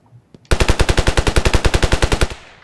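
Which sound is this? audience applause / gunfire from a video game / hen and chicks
gunfire from a video game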